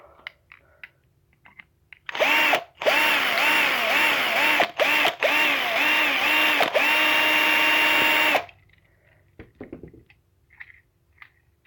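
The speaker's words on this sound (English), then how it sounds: "she's going to need a little bit more drilling, people." A power drill bores into a tiny 1:64 scale diecast metal car in a steady whining run of about six seconds, broken by a few short pauses, with quiet handling clicks before and after.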